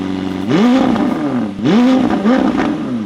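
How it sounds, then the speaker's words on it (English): A McLaren 750S sports car engine with a titanium sports exhaust fires up and revs hard twice, each deep, loud surge rising and falling up close. "Let's start her up. We also have a titanium sports exhaust that reduces weight and sounds way better."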